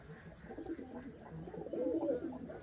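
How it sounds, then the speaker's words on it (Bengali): Soft cooing from a pair of Black Huma pigeons in repeated low murmurs, close by, with faint higher chirps from other birds in the background. "আমার ব্ল্যাক হুমা কবুতর জোড়া"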